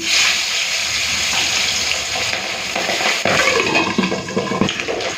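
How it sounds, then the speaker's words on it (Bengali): Pabda fish fry in hot mustard oil, giving a loud, dense, continuous sizzle with a rushing, watery hiss throughout and a few louder bursts toward the end. "তেলটা গরম করে নিয়েছি এরপরে মাছগুলো ভেজে নিই"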